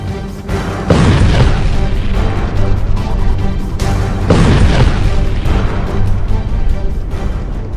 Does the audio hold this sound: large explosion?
yes